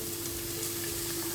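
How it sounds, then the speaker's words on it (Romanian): Chopped onion and carrot sizzle steadily in hot oil, a close, even frying hiss with no voices. "În ulei uncins adăugăm ceapa tocată. Peste ceapă adăugăm și morcovul tocat"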